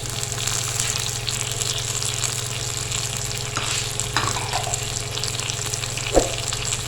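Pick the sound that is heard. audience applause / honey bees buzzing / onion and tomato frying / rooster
onion and tomato frying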